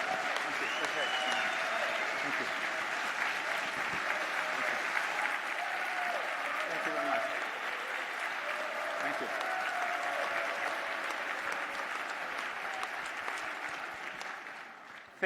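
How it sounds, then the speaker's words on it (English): A conference audience at CCL 2018 applauds the keynote speaker onto the stage, a dense and steady round of clapping that holds for about fifteen seconds and eases off at the very end. "there are only 2 times in my life that I've received a bit of a standing ovation before even opening my mouth"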